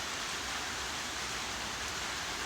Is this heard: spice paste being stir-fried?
no